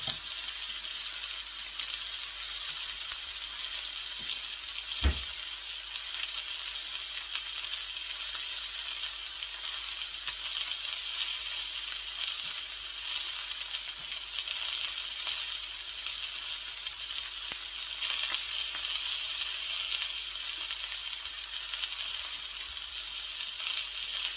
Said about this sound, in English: And let it fry on the other side.